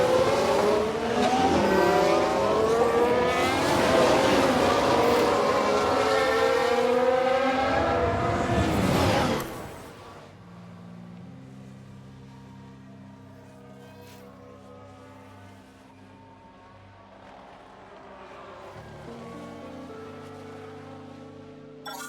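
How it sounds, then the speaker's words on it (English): Simulated Formula One cars in F1 Manager 22 roar loudly with high-revving engines, then the roar fades to a quieter passage of lower engine drone and tyre noise from a race car locking up under braking. "Sounds like someone's locked up."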